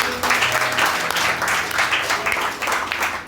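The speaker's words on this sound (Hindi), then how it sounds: "आपके लिए ताली बजाएं।" A congregation claps loudly at a Hindi-language church service, a close, dense and rhythmic round of hand clapping with a faint low hum of voices or music beneath.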